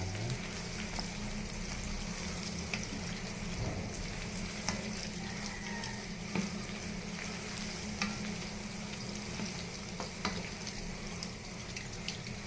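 Pork ribs fry in hot oil until browned, giving a steady dense sizzle and crackle with scattered pops throughout and no voices.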